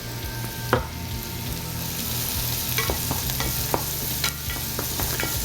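Garlic frying in a pan as the base of a sauce, a steady close sizzle with scattered crackles and occasional clicks of a utensil stirring, no voices.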